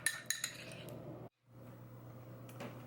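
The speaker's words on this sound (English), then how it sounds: "Sorry, the noise of the bowl." A mixing bowl clinks as pumpkin cookie batter is stirred, with a few sharp metallic taps at the start and soft scraping, a brief pause, then faint clinks over low background hum.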